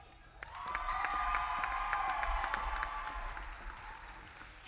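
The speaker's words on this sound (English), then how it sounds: "please give a big round of applause for the National FFA Southern Region Vice President, Jordan Stowe" A convention hall audience at the Utah FFA State Convention bursts into loud applause with cheers and whoops welcoming the National FFA Southern Region Vice President, swelling quickly and holding steady before tapering slightly.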